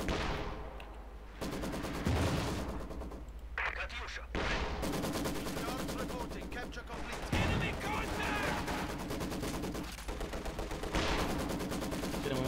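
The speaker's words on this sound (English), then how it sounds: "Bit of bombardment here, Maxim supporting." Maxim machine gun bursts and artillery bombardment in the Company of Heroes 2 strategy game, dense continuous gunfire with heavy booms layered throughout, loud and constant, with a voice commentating over it.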